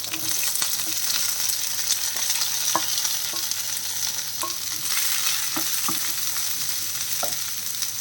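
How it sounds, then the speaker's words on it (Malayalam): Ginger, garlic, shallots and onion sauté in oil for a Kerala squid stir-fry, with an even, steady sizzle throughout and soft, periodic scrapes of a stirring spoon. "ഒരു പകുതി വഴറ്റി കിട്ടി അതൊരു രണ്ട് മിനിറ്റ് ഒന്ന് വഴറ്റിയാൽ മതി"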